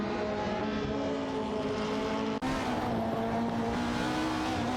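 A Ford Mondeo and a Vauxhall Vectra race in a racing game, their engines droning loudly and steadily at high revs with a sustained tonal whine, a brief gear-change dip midway, and no voices.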